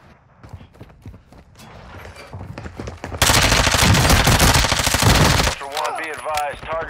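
Video game gunfire builds from scattered shots into a dense, loud automatic burst as a squad takes fire, then cuts off abruptly and leaves a short tail of voice-like sound.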